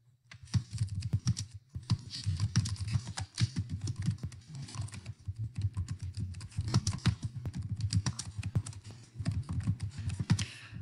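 Quick, irregular clicking of keys on a computer keyboard as a short message is typed, close and clear, with brief pauses between bursts.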